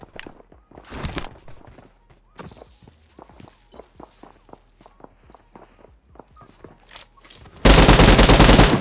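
Gunfire and footsteps in the PUBG Mobile video game: scattered sharp shots and steps with quiet gaps, ending in a loud, sustained blast of automatic fire that drowns everything else.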